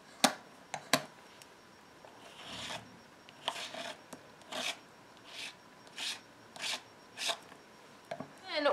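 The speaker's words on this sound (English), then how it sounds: "You put it down on the stencil, and then you just rub that across it." Embossing paste is rubbed across a stencil in a steady series of short scraping strokes, close up and soft, with brief pauses between passes.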